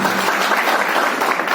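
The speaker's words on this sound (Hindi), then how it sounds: "मैं इनके लिए ताली चाहता हूँ।" An audience claps steadily and densely at a Patel Kurmi community gathering held in a restaurant garden in Bettiah, a short, even burst of applause.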